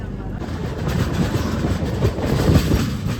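A long-distance Kumbh Mela special train from Kerala to Gaya, halted on a single-line railway section, gives a steady low rumble and rolling clatter close by, with faint murmuring voices underneath.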